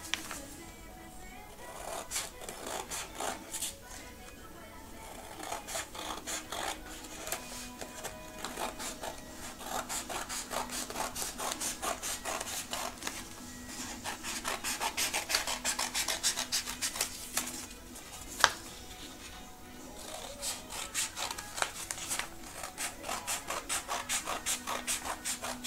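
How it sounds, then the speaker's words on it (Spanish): A material is cut by hand with a steady rasping, scraping rhythm of quick repeated strokes, fairly quiet and close, continuing for about twenty-five seconds without speech. "Lo vamos a cortar."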